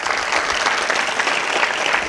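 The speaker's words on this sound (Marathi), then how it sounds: "त्यांच्यासाठी एकदा जोरदार टाळ्या वाजवा" An audience at a speech event claps for the dignitaries in a steady, dense burst of applause, loud and sustained throughout.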